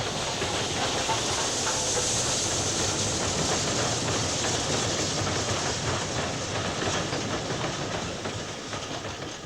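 A 7F steam locomotive heading a train on the Somerset & Dorset line runs past near Templecombe Upper, a dense continuous rumble with steam hiss and rolling wheel clatter that eases slightly toward the end.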